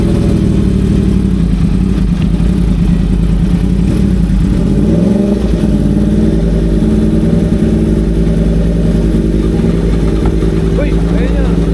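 A Suzuki GSX-R 1000 motorcycle engine cranks and then catches, running as a steady loud low rumble throughout, with people talking over it nearby.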